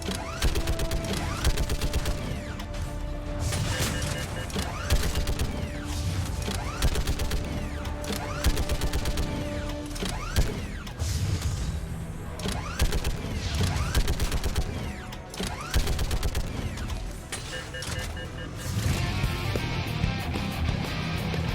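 Rapid, continuous turret gunfire from Mass Effect 3, layered with mechanical clatter and crashing impacts, loud and dense throughout with a brief lull midway.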